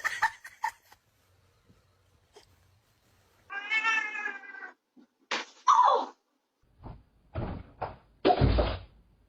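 A house cat meows loudly and insistently at close range, several drawn-out, wavering cries spaced apart, mixed with a few soft knocks and rustles in an otherwise quiet room.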